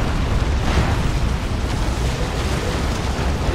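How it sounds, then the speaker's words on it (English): A Demolisher Cannon blast in the real-time strategy game Dawn of War 2 rings out as a loud, rumbling boom with sustained low-end roar throughout, part of a busy 3v3 battle without speech. "Demolisher Cannon, boom."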